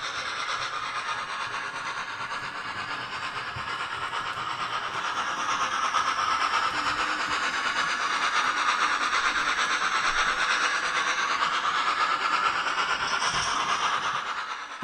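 A steady model steam locomotive DCC sound recording, sampled from the preserved O1 number 65 at the Spa Valley Railway: mechanical rumble with hissing and rhythmic clatter continuing evenly throughout, with no voices.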